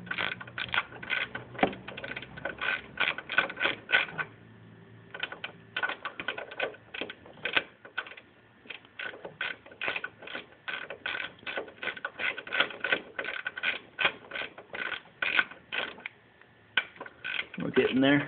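A ratchet snugs a nut down onto a stud during a CoolIt v2R cooler install, giving rapid, steady clicking in repeated runs with short pauses between strokes, close and fairly quiet.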